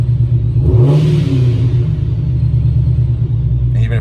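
A car engine climbs in RPM toward about 2,000, a close, steady low rumble that swells briefly as revs rise and then holds a constant drone.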